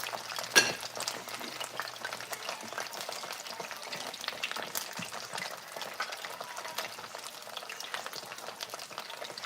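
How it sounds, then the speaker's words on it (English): Jamaican boiled dumplings frying in hot oil, a steady faint crackle and fizz with scattered small pops and a brief clatter early on, no talking. "while you're frying this dumpling normally gives off this frothiness, but it normally pops"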